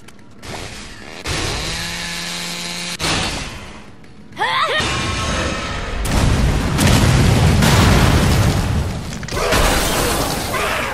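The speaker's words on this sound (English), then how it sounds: "it sucks when things explode" Explosion in the Lollipop Chainsaw video game, a sudden loud boom with shattering debris amid buzzing chainsaw-like game noise and mechanical sounds, followed by a sustained rumbling burst.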